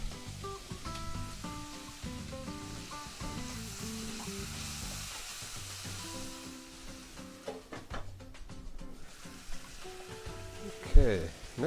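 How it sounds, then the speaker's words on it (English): Onions and garlic sizzle in a pan with a steady crackle, and occasional utensil clinks come through. One sharp clatter lands near the end. "Okay, in go the onions. So I'll let these cook down a bit. Okay, next I'll put in the garlic."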